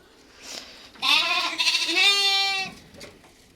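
Mylambadi goat kids bleat loudly on a farm, one close, wavering cry stretching for over a second after a fainter call, with no talking.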